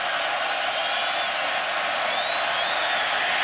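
A stadium crowd at a Syracuse vs. NC State college football game roars steadily and loudly throughout, a dense wash of cheering with a few whistles rising above it.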